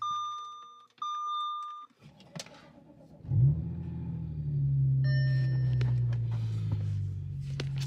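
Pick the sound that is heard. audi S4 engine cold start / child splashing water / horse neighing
audi S4 engine cold start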